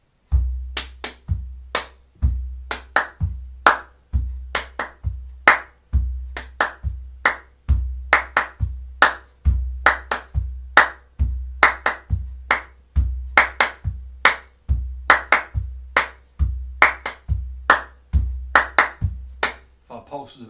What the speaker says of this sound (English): So this is a clapping rhythm, but it works great.